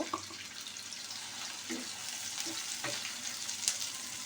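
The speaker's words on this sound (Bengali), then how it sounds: "এখন আমি এগুলো ভালোভাবে একটু ভেজে নিব লাল করে ভেজে নিব" Chopped green chilli and garlic frying in a pan, a faint continuous sizzle with a few soft utensil taps, quiet and with no voices.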